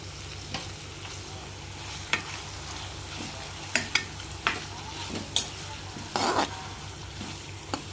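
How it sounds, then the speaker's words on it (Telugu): Dried prawns with turmeric fry in a pan with a steady low sizzle, broken by occasional sharp scrapes and taps of a stirring spoon, close and without talk. "నేను మంచిగా వేయించుకుంటాం."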